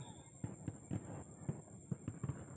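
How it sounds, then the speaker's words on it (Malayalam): Muffled, distant daytime fireworks display thumping in a steady series of booms about half a second apart, faint against a thin steady whine. "അതൊക്കെ കഴിഞ്ഞ് പിന്നെ കഴിഞ്ഞ ദിവസത്തിൻ്റെ വെടിക്കെട്ട് തുടങ്ങി"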